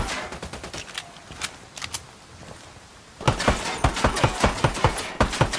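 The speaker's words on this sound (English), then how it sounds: "Taking fire from the checkpoint." Gunfire from a checkpoint in Ghost Recon Wildlands: scattered distant shots at first, then a sudden close burst of rapid, loud automatic fire cracking in quick succession.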